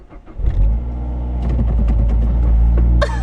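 A Mazda car engine catches and then revs, a loud, close rumbling roar that swells and holds steady for a couple of seconds before dropping away.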